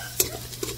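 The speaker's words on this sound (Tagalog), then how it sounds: "paghalo-haloin na po natin" Sautéed vegetables for Bicol-style pinakbet are stirred in a pan, giving two quick scraping clinks of a utensil over a soft, close sizzle.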